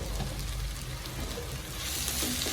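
Vegetable samosa filling with garam masala and cumin powder sizzles steadily as it is sautéed in a pan, a quiet, continuous frying hiss with a few soft stirring scrapes.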